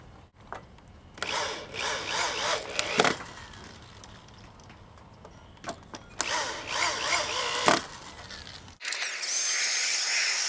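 A power drill drives screws into a wooden swing pergola in several short bursts of whirring, stopping and restarting, fairly close, ending in a steadier rush of noise.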